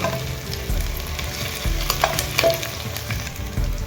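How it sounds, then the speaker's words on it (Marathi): Ginger garlic paste sautéed in a pan, a loud close sizzle with brisk stirring and scraping of a spatula throughout. "आलं लसूण याला पण चांगलं परतून घ्यायचं आहे"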